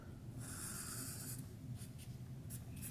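A Sharpie marker squeaks across paper in short strokes, with a steady low hum underneath; close and fairly quiet.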